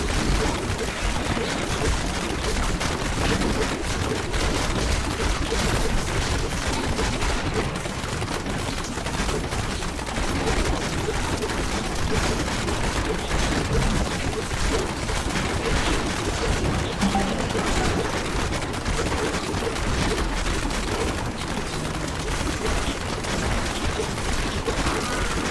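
Dense, continuous game-world explosions and gunfire-like bursts from Diablo 3 combat, with a Demon Hunter character at high level, rumbling loudly and steadily with no break.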